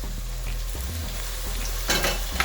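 Spring onions going into a sizzling mixed vegetable sauce, a steady low fry sound followed by a brighter burst of hissing and stirring as they hit the pan.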